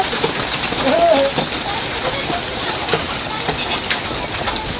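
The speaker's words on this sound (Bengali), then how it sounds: "শিলাবৃষ্টি হচ্ছে" Hail pelting down steadily in a heavy hailstorm, a dense continuous patter of stones striking surfaces nearby, with a voice briefly heard over it.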